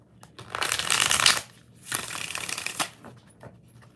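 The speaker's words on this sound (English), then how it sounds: "4 shuffles." Tarot cards are riffled close up in two brisk shuffles, each a dense crisp flutter about a second long, followed by a few faint taps as the deck settles.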